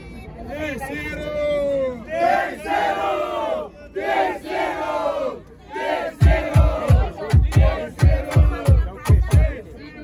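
A lively rap battle crowd roars and shouts, with rhythmic loud bursts near the end like stomping or chanting, voices overlapping throughout.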